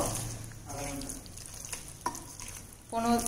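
Biryani ingredients stirred and mixed in a frying pan, a low sizzle running under scraping spoon strokes and short clinks against the pan, close and moderately quiet.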